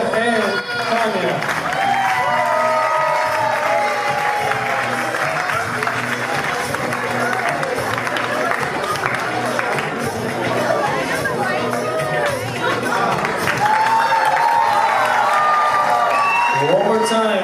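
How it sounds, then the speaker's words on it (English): A crowd at an engagement party claps and cheers in a dense, continuous roar of applause and chatter, with whoops and voices rising over it and growing louder near the end. "How about a big round of applause for Tia and Tanya?"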